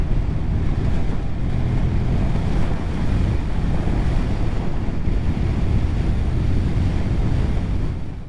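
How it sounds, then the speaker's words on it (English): Strong wind roars and buffets a microphone on a high road in Scotland, a steady, loud rumble that runs unbroken throughout with no voices. "Oh, it's a bit windy here."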